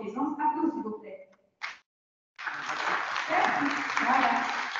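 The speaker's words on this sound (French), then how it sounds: "Applaudissements, s'il vous plaît." Applause during a webinar session on Microsoft Azure and the cloud follows someone speaking and a short silence, then rises into a steady, fairly loud wash of clapping that continues to the end.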